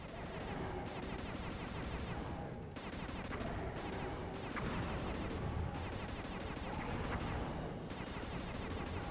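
Rapid gunfire from Sly 2: Band of Thieves crackles in dense volleys with brief gaps over a busy game soundtrack, fairly faint and continuous throughout.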